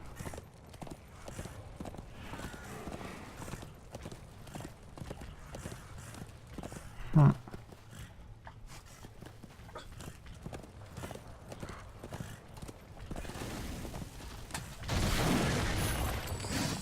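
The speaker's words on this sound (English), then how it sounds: "let's ride the horse." Horse hooves clip-clop steadily while riding through the video game Darksiders II, a continuous rhythmic trot under game music and ambience, with one brief thump midway and a louder swell near the end.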